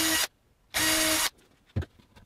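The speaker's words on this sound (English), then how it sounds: "Then it's mark and drill in the usual way." A power drill whirs into wood in two short bursts close by while fitting a magnetic catch, separated by a pause, followed by a few faint knocks.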